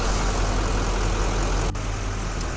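A car engine idles steadily after being jump-started from a dead battery, giving a continuous low rumble that holds even from start to finish with no voices.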